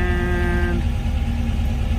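A Porsche 914 fitted with an aftermarket ECU idles steadily, its engine running as a continuous low rumble close by, with a faint tonal whine fading out in the first second.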